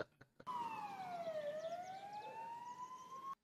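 Ambulance siren from the film No Country for Old Men, a loud electronic wail that sweeps down then slowly rises, close and alone, cutting off abruptly.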